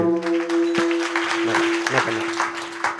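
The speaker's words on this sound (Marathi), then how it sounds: "नका नका एवढ्या जोरात टाळी वाजू नका" Kirtan audience clapping hard in a dense wash of hand claps, with a steady held harmonium-like drone running beneath throughout.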